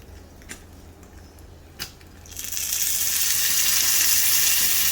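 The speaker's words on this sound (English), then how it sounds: "We want the sizzling effect." Tofu and sauce hit a hot plate and burst into a loud, steady sizzle that builds and keeps hissing, preceded by a couple of soft clicks in a quiet room.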